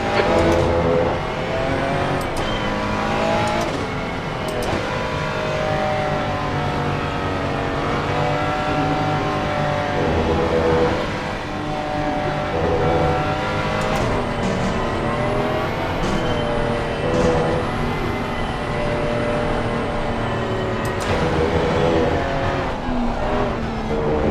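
Race cars lapping Circuit of the Americas in a SARCO round, engines revving and shifting continuously at close range with passing cars and a brief tire squeal, no talk.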